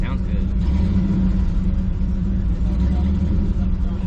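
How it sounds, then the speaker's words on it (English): A cammed old Ford F100 on street tires at a cars and coffee meet, its engine rumbling and revving steadily close by as people talk over it. "old F100 on street tires, but it sounds cammed"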